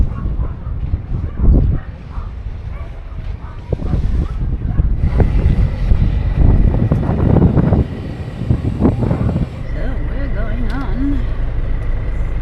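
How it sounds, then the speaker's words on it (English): Wind gusting at a ferry port on a blustery Good Friday in southern Chile, a loud rumbling buffeting across the microphone with people talking over it and a dog barking nearby. "It's quite windy."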